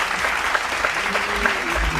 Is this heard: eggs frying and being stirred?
no